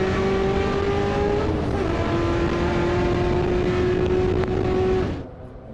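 A race car engine roars steadily at high revs on the Circuit of the Americas track, a loud sustained whine holding pitch for about five seconds before cutting off abruptly.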